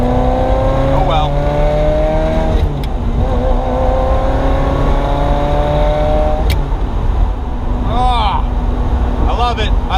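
A Ferrari F355 drives on a highway after a rebuild, its engine a steady loud drone with rising and falling pitch as it gains speed, heard from inside the car under intermittent talk.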